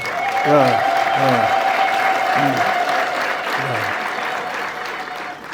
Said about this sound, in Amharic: ሲስተር ኒና አጨብጭቡላቸው ለሲስተር ኒና